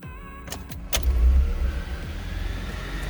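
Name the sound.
hybrid car engine starting and running after oil change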